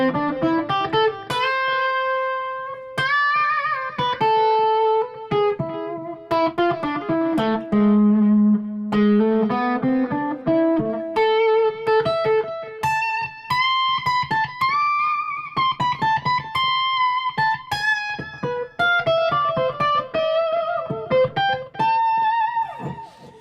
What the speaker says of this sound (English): It's the sound of this guitar